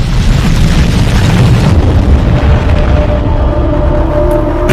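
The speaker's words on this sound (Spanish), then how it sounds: "2 explosiones nuevas sacuden la región" A loud, sustained roaring rumble, like an explosion's blast rolling on, fills the clip before slowly thinning out.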